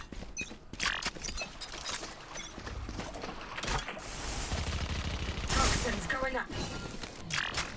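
Shotgun fire and mechanical clatter in the video game Eternal Return: Black Survival, loud rapid bursts and clanks stacked across the stretch while players talk over them.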